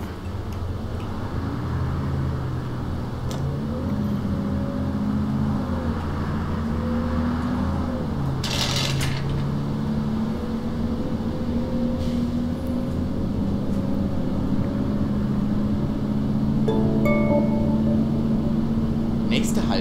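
A city bus in the OMSI 2 bus simulator game drives through Felsheim, its engine a steady low drone that gradually rises in pitch, with a brief hiss and a few mechanical tones over the top.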